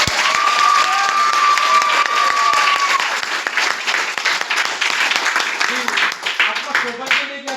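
A seated audience at a company promotional talk breaks into dense, sustained applause, loud and close, with a few whoops and shouts mixed in as the clapping gradually thins toward the end.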